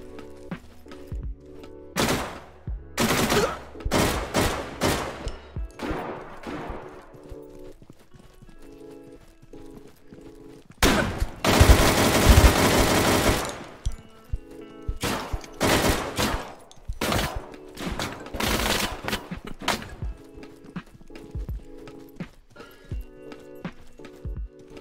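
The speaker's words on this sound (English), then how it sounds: "It's a weird bullpup version of an AK." Gunfire from a bullpup AK-style rifle in a video game, quick bursts of sharp shots with pauses between, loud and close, one long sustained stretch of rapid fire in the middle.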